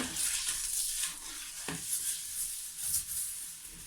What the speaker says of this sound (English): You see it fizzing away.